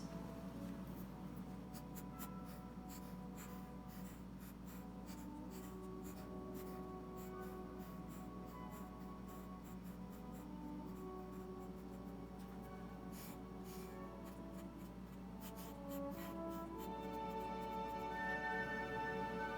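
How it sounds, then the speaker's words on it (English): A pencil drawing a rose on paper before watercolor painting, giving a quiet, continuous scratchy scribbling made of many short strokes with no talking. "So I'm going to start by drawing my picture, and I think I'll start with a rose."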